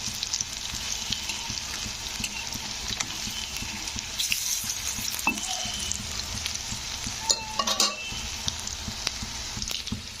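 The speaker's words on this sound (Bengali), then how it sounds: "তেলের মধ্যে দিয়ে দিয়েছি তো একটু উল্টে দিচ্ছি তো এক পাশটা হয়ে গেছে" Radish pakoras sizzle steadily in hot oil while being turned, a constant close frying crackle with occasional louder stirring clinks and splashes, no talking.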